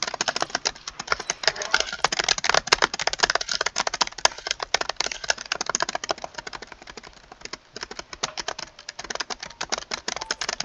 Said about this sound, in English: I'm just pressing the spacebar because I don't feel like clicking my mouse at this time.